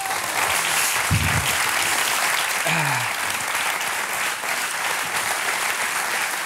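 A theatre audience at a Laurent Baffie show applauds in a thick, continuous wall of clapping. It stays loud and even throughout, with a brief low voice or whoop cutting through near the middle.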